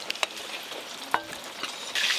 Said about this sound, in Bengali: এদিকে মাছগুলো ভাজা হতে থাক